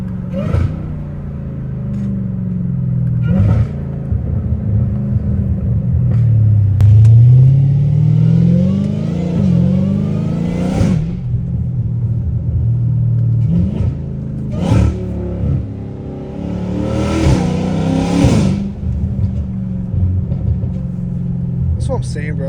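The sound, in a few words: catless Dodge Hellcat Redeye straight-pipe exhaust revving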